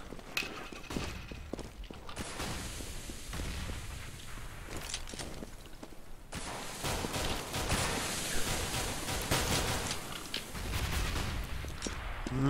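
Rapid gunfire fills a Counter-Strike match on the de_dust2 map, with dense bursts of shots and clattering game effects running loud and continuous throughout.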